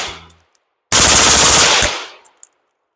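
A 5.56 rifle fired through a Surefire SOCOM Mini II suppressor gives a sharp, loud report with a roughly one-second burst of dense, rapid noise, followed by a few faint ticks and echoes.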